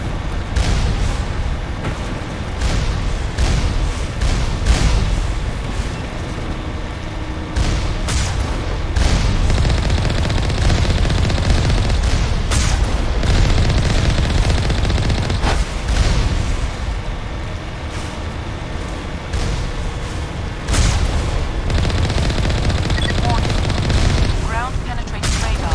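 Turrets in the video game Mass Effect unleash sustained rapid gunfire with heavy booming impacts and blasts, a dense, loud barrage that continues almost without pause, with some talking underneath.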